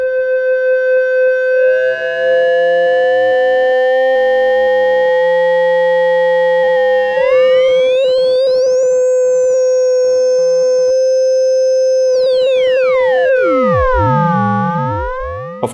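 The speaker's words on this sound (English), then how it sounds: "This is a sine wave which is being modulated by another sine wave using a frequency modulation" A modular synth sine wave, frequency-modulated by a second sine wave, sounds as a loud steady electronic tone whose sidebands shift and sweep, gliding up and down in pitch through changing metallic timbres.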